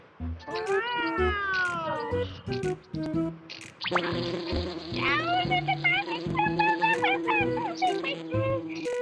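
A cat in a video game meows and caterwauls repeatedly, with high wavering cries layered over a buzzing, insect-like game sound that runs throughout.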